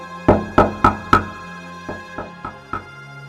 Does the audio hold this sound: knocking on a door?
yes